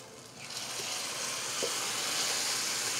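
Blended salsa sizzles and hisses loudly in a hot frying pan with meat, a bright steady crackle that swells after a quiet start and continues unbroken.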